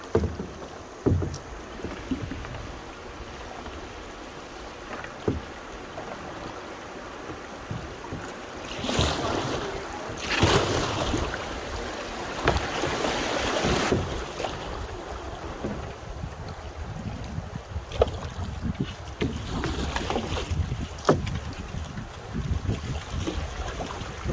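A canoe runs river rapids, with rushing water and irregular splashes and paddle strokes, swelling loudest mid-way, mostly without talk.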